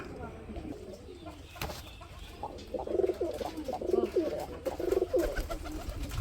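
Gola pigeons such as gorra and rajgolla coo close by in a breeder's loft, giving three rhythmic, rolling coos in the second half after a quieter start.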